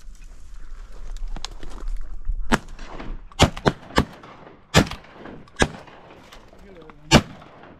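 Shotguns fire during a Texas duck hunt over wigeon decoys, several sharp loud blasts spaced irregularly, some close together, with brief voices between shots.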